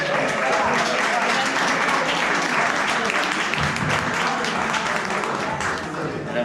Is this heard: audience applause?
yes